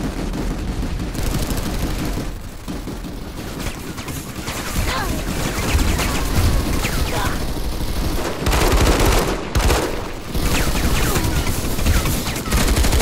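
Sustained gunfire from a Planetside 2 firefight, with automatic weapons rattling in dense bursts almost continuously, joined by loud impacts and a short gap near the middle.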